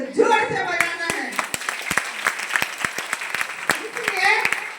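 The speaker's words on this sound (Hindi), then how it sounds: "किसी के लिए अगर ताली बजाना है तो जोर से बजाना है" Meeting audience clapping in scattered sharp claps that come more densely as a voice keeps speaking over them.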